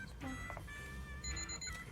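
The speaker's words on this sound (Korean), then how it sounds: "비비비비. 알람 울린다" An alarm clock rings in a Korean mobile game about a toast-carrying schoolgirl, sounding as a rapid electronic beeping tone laid over busy game music and effects at moderate level.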